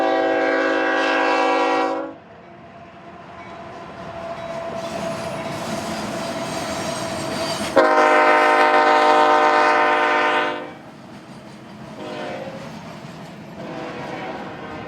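Union Pacific light power locomotives rumble past near a desert yard, a loud multi-tone horn sounding in two long blasts around sustained engine and rail noise, then fading as the train moves on.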